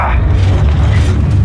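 A Confringo explosive spell cast in Hogwarts Legacy lands as a loud, deep, rumbling boom that fills the moment and then rolls on as a sustained low roar.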